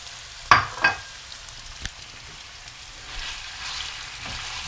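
Meat frying in a pan sizzles quietly as onion and garlic are tossed in, with a couple of sharp clatters at first and then a soft, steady hiss.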